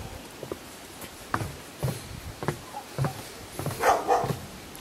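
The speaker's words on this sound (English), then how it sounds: "Neighbour's dog decided I'm lunch." Neighbour's dog barking at a villa estate in Cap Estate, St Lucia, with scattered yips and barks at middle distance over outdoor ambience.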